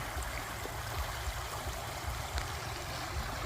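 A stream runs beside a plot of land in Cha-om, Kaeng Khoi, Saraburi, a soft steady wash of flowing water with low rumble, faint and continuous, with no voices.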